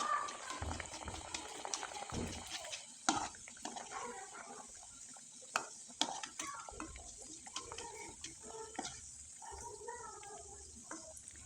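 Small snacks of flour and egg deep-fry in hot oil, a faint, continuous bubbling crackle with scattered little pops and gurgles, heard close but quiet.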